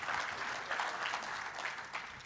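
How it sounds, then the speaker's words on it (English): An audience at a health conference closing ceremony claps together, a dense, steady wash of applause at moderate distance that carries through the whole short moment without a break. "Clap for you so you know that Africa is rising."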